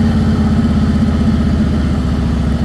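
A Harley-Davidson Heritage Softail Classic engine runs steadily and loudly up close, a deep, lumpy, rapid rhythmic thump of the V-twin that holds constant without revving or voices.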